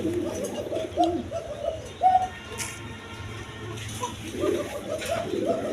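Two male pigeons coo repeatedly, close and fairly loud, their throaty rolling calls recurring in bursts with a brief sharper flutter midway and no speech over them.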